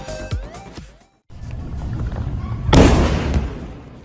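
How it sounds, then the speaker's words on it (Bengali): Missile strikes during wartime in Israel, around Tel Aviv, are heard as a deep explosive rumble, and a sudden loud burst hits later in the clip. "থেমে থেমে বিস্ফোরণের বিকট শব্দ"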